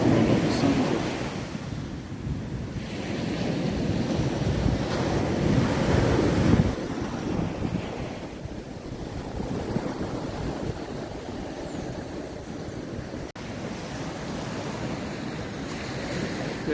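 Caribbean surf rolling onto the beach at Juan Dolio, La Romana, Dominican Republic, with waves washing in and receding in a steady rhythm, light wind gusting over the microphone, and a louder swell cresting midway.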